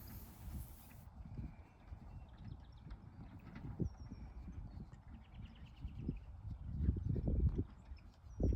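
Horse walking while plowing a sloped farm field in spring, with soft irregular hoof thuds and low rustling over steady outdoor ambience, growing louder toward the end; faint birdsong above.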